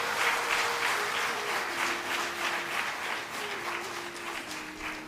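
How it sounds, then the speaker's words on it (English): An auditorium audience of students applauds at a foundation day celebration as an honor is presented, a sustained, fairly distant round of clapping. "So I invite a big round of applause from our students."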